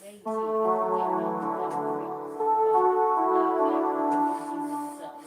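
A sustained pipe organ chord on a brass reed stop with two 16-foot ranks, rich with buzzy harmonics, holds steadily, swelling slightly midway, with no voices.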